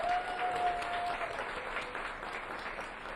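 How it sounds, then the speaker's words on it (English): A crowd claps at a street pitch competition as an entrepreneur begins his pitch. The applause is sustained and moderately distant, thinning slightly toward the end, and a brief tonal whine sits faintly over it early on. "Give him another round of applause as he begins."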